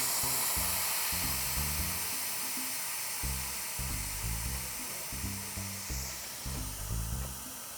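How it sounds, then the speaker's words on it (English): Air hisses steadily out of a mountain bike tire being deflated, a continuous close spraying sound with faint low knocking beneath it. "you should deflate your tires. You don't have to do it all the way, just enough that they'll still hold their shape"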